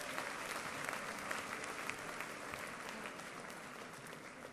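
A crowd at a religious gathering applauds with a dense, steady wash of clapping that holds at an even level throughout, heard from a moderate distance.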